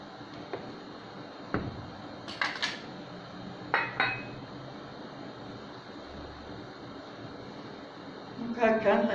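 A pot of chicken stew being covered, with several metallic clanks and scrapes of a lid and pot spaced across the clip, ending in a louder rattle, over a quiet background hum.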